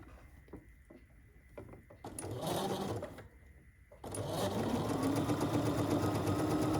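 A sewing machine stitches quilt pieces together in short bursts, first a brief run, then a longer steady whir, close by, with small mechanical clicks and handling sounds between and no talk.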